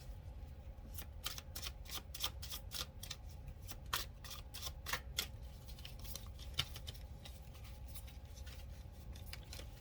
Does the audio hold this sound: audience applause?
no